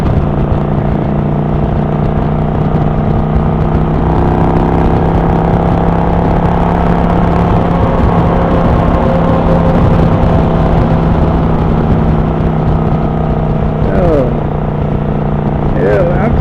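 A motorcycle engine drones steadily while being ridden, a dense continuous hum that holds loud and close for the whole stretch, with a brief shift in tone near the end.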